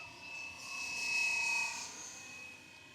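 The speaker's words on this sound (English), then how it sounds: "This helicopter flies so easy and so scale, guys." A faint, high-pitched rotor whine from a small Fly Wing EC135 model helicopter swells briefly as it passes some distance away, then fades slightly.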